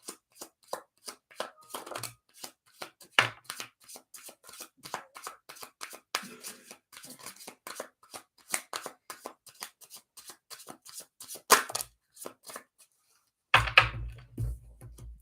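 A tarot card deck is shuffled by hand, with quick crisp riffles and soft slaps in irregular bursts at close range. A brief low thump comes near the end.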